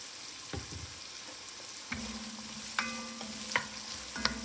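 Vegetables sauté in a pot, seasoned with salt and pepper, a soft steady sizzle punctuated by a few sharp clicks and scrapes of a utensil stirring.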